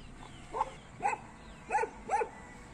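Four short dog barks spaced about half a second apart, moderately distant against a quiet background hum.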